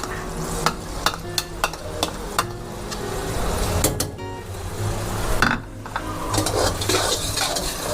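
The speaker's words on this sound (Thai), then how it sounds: "เอาสามเกลือลงไปผัด" Garlic, coriander root and pepper paste stir-fried in caramelizing sugar for Thai pork belly and egg stew, with a continuous loud sizzle, rapid metallic spatula taps against the pan and scraping stirs.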